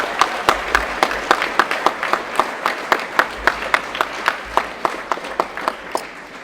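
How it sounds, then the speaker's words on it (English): Applause at a school prize-giving ceremony, made of crisp, evenly spaced claps at a brisk steady rhythm that carry on for several seconds with a faint crowd murmur beneath. "So if we give them a round of applause."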